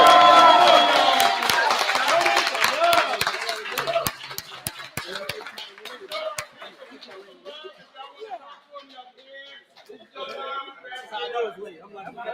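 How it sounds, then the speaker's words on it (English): Room audience at a district 2 debate applauding loudly, dense clapping from many hands over chatter, then thinning out into scattered claps and murmured talk. "I want to give these three a round of applause"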